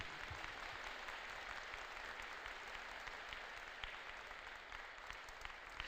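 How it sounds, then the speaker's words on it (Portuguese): A church congregation claps steadily and continuously at a moderate distance, a dense even wash of applause with no voices standing out. "Vamos aplaudir Jesus. Aplauda Jesus."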